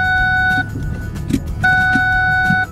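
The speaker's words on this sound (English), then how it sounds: "that's the seatbelt warning" A modern car's seatbelt warning chime sounds as two sustained electronic tones, each holding about half a second to a second, separated by a gap filled with low cabin rumble and small clicks.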